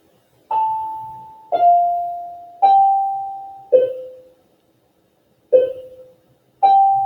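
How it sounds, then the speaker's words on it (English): Six bell-like tones ring out one after another, each a clear struck chime that decays slowly, with a short gap before the last two; loud and close, with no talking. "Sorry about the bells."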